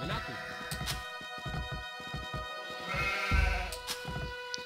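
Sheep bleat repeatedly over a busy Age of Empires II HD soundscape on the Black Forest map, with background music and other game effects.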